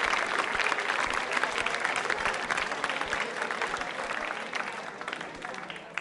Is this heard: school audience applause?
yes